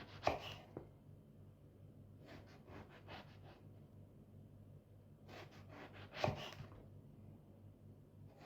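A knife slices partway through 5 mm rounds of eggplant on a cutting board, leaving each slice joined at the base; there are several clusters of quick, close, soft chopping taps with short pauses between them.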